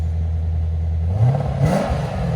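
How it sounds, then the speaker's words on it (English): A Lexus RC F with its 5.0L V8 and Valvetronic exhaust valves closed revs once from inside the cabin, a muffled low engine hum rising in pitch and settling back, subdued and steady with no talking. "Lexus RCF. This is with the valves closed, guys."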